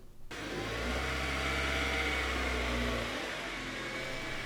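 A car pulls into a garage for a headlight restoration job, its engine a steady, fairly loud hum with a broad rushing tone that swells in and then holds, with no voices.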